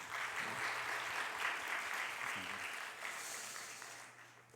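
A church congregation at a Sunday youth worship service applauds in encouragement: sustained, moderately distant clapping from many hands, holding steady before fading out toward the end, with a low hum underneath.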